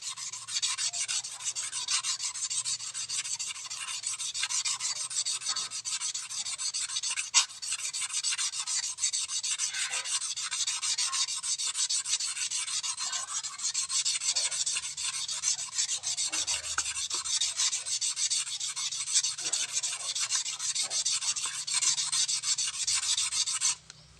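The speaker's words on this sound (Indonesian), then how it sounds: "Digosok-gosok sambil sticknya diputar-putar" Steady, continuous sandpaper-like rasping as an agate gemstone is rubbed and polished on coarse abrasive paper while mounted on a rotating stick, close and sustained with brief pauses and no talking.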